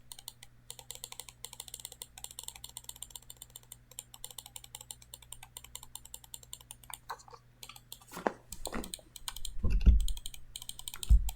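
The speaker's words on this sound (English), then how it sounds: "I wonder if the clicking noise is annoying or if it's like stimulating to you guys" Rapid repeated clicking from a computer mouse or keyboard at an early-morning desk session, close and steady, with a few louder low thumps near the end.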